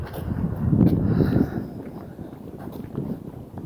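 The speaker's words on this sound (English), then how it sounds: "Ooh, and it's windy today too." Gusty wind rumbles and buffets the microphone, swelling loudest early on and then settling into a steadier low roar.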